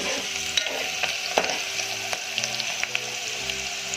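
Onions sizzling and frying in a pan over high flame for Gujarati ridge gourd sabzi, a steady dense crackle with scraping stirs of a spoon, close and loud, no voices.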